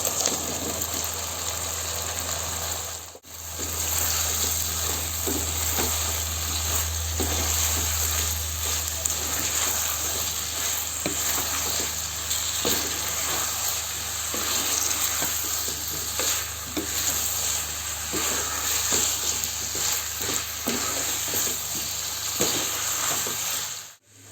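Boiled wild taro frying and being stirred in a pan, a steady close sizzle with repeated soft scraping strokes throughout, over a constant background hum.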